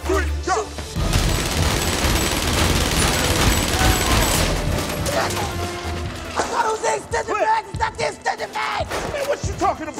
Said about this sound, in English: Selective fire. Visual confirmed target. Short burst. Just shoot!